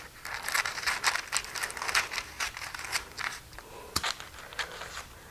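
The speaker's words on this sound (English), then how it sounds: "Just get some kitchen shears and you want to cut the corners off." Kitchen shears snip through parchment paper to cut off its corners, giving a run of crisp cuts and crinkles close by, followed by a sharp snap near the end, with no talking.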